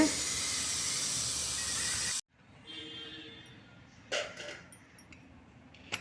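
A pressure cooker lets out a loud, steady hiss of steam for about two seconds while cooking rice and lentils, then cuts off, leaving quiet kitchen clatter and small knocks.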